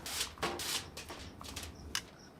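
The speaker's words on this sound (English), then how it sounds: "Let's wrap with foil." Aluminium foil crinkles and rustles as it is wrapped around charred grilled onions beside an outdoor gas grill, in a series of close, crisp bursts of crackling with short pauses between them.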